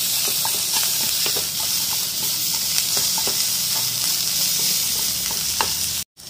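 Onions fry in a pan for veg Manchurian, a dense steady sizzle and hiss with occasional stirring scrapes close by, cutting off abruptly near the end with no talking.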